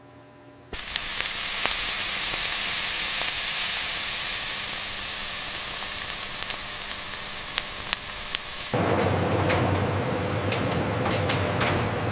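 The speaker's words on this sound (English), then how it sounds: "the intense temperature creates the perfect char and drives the steam upwards" Eggplant chars in a factory high-heat zone, giving a broad, continuous steamy hiss and sizzle that shifts abruptly in tone partway through, with scattered crackles and no talk.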